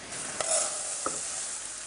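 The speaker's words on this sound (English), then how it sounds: "you want to hear just a little bit of a sizzle of the rice kind of cooking a tiny bit" Arborio or carnaroli risotto rice toasting with grated garlic in a pan, giving a soft steady sizzle with a couple of brief stirring scrapes, close and fairly quiet, no talking.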